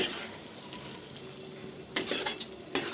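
Stirring an eggplant and fish oil curry in a pan, a faint background sizzle, then a few bright metal spatula scrapes and clinks in the last second, near and without talk.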